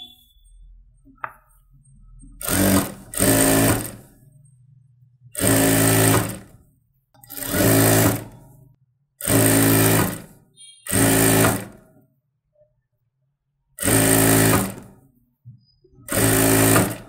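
A tailor's sewing machine stitches the lining of a fancy saree blouse in a string of short, loud, close bursts, each lasting about a second, separated by brief silences.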